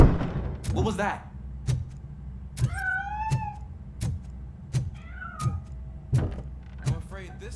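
A cat meows twice in the shooter RoboCop: Rogue City, rising mewing calls standing out mid-clip against a low rumbling game ambience with repeated sharp clicks and thunks, and a voice talking early on.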